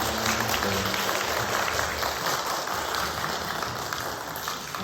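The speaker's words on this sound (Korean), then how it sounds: "그래서 우리 힘찬 박수로" A church congregation at a Sunday Korean Methodist service applauds steadily, a broad even wash of clapping filling the room for about five seconds without pause.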